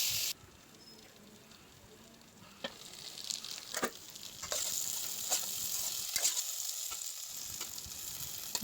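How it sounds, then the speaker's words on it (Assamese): Potato and eggplant pieces fry in a covered pan over a low gas flame for an Assamese vegetable dish, giving a steady, close sizzle that starts soft and grows louder and fuller partway through, with no talking. "এনেদৰে আলু বেঙেনাখিনি সিজালৈকে ঢাকোন দি দি ভাজি থাকিম।"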